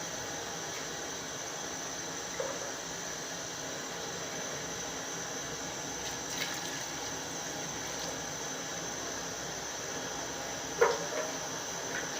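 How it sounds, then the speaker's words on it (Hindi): Water is poured into a cooking pot for chicken chana pulao, a steady, even hiss of liquid with a few faint clinks of metal along the way. "पानी को डालने के बाद इसको अच्छी तरह से उबाल आने देना है।"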